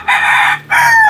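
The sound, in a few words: Melsims chicken rooster crowing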